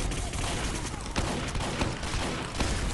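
Dense, continuous gunfire from the video game Team Fortress 2, a fast rattling fusillade of shots lasting the whole three seconds at a steady, loud level with no pauses.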